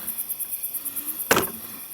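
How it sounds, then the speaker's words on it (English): Crickets chirp in a New Hampshire field at night, a steady, rapid pulsing trill repeating evenly throughout, with one brief sharp knock or thud cutting in near the end. "And tonight, the field is filled with crickets."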